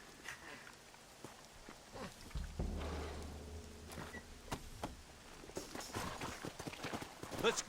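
Horse hooves in the Red Dead Redemption video game clop faintly and unevenly amid quiet ambient noise, growing more frequent and slightly louder toward the end.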